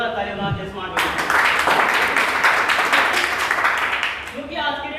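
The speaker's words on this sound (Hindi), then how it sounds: "एक बार जोरदार ताली बना दीजिए स्मार्ट वीडियो" Audience applause at a motivational business event, a loud dense burst of clapping that swells in and holds for several seconds before fading back under a voice speaking over a microphone.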